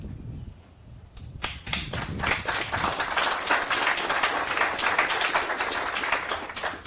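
An audience at a Vigo County community broadband announcement bursts into applause after a brief quiet moment, many hands clapping together in a dense, sustained wash that holds steady to the end.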